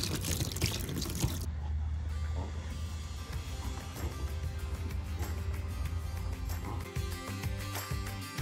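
Water runs steadily into a tub to soak pet tortoises, a continuous trickling and splashing flow that changes tone after the first second and a half, close and moderately quiet.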